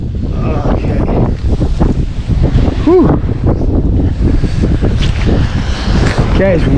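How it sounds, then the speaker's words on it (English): Strong wind buffets the microphone on a wet shore while fishing for bluefish, a continuous loud roar with gusts, with faint water and brief higher whistling tones mixed in. "it's windy and wet down here"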